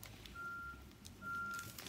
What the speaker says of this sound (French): Vous allez entendre des camions en arrière-plan.